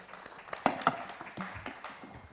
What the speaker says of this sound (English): Please join me in appreciating our panelists with a big round of applause